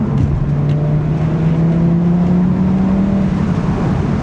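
An Audi TT RS pulls hard after dropping a gear, its engine note climbing in a steady loud drone that rises in pitch over several seconds, heard from inside the car.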